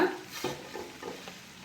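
A spoon stirs chicken sukka with freshly added grated coconut in a pan on the stove, a few soft scraping strokes close by over a light sizzle, with no speech.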